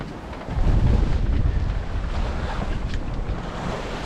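A sailboat beating out from Tobermory in 10-11 knots of wind splashes through waves, with a continuous rush of water and wind buffeting the microphone, swelling loudly after a quieter start and staying close and steady.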